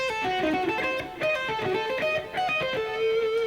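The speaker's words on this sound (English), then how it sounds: "what I play instead sounds and feels more like a diminished arpeggio" Overdriven electric guitar climbs and falls through a tense, evenly spaced run of single notes, each picked note sustaining briefly before the next.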